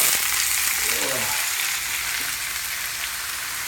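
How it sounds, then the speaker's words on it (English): Vegetables fry in hot oil for an Asian-style vegetarian stew, a steady close, dense sizzle with faint stirring beneath it and no talk. "time for frying the vegetables."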